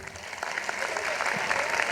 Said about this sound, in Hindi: आप ममता के लिए तालियां प्लीज बजाइए